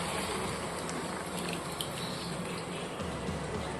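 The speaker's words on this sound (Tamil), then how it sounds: "கொஞ்சமாக தண்ணி சேர்த்துக்குவோம்." Water poured into a cooking pan of drumstick thokku with sautéed ingredients, a steady broadband watery rush and sizzle that runs continuously at moderate level without a break, no voices.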